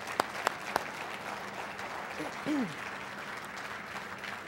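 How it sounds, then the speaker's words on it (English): Faint, distant audience applause at a talk on exopolitics, a soft, even patter of many hands with a few sharper claps and a brief voice rising through it. "let's give an applause for this legacy of Terry Brown"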